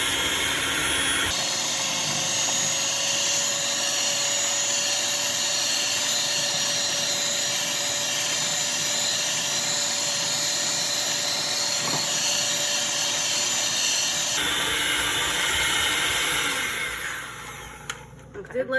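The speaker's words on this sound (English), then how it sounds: "I just want to make sure that this is whisked properly." Brownie batter whisked steadily for about thirteen seconds, a broad, even whirring wash that begins and ends abruptly and holds a constant loudness throughout.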